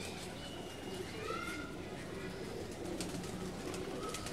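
A Rampuri breeder pigeon coos softly a few times against a steady, noisy background hiss.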